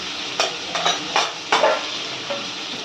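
Spices with turmeric roasting in a pan, several distinct scraping stirs at uneven intervals over a soft continuous sizzle, close and fairly loud, with no talking.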